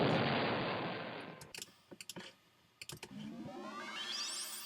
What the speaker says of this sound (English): The explosion sound effect.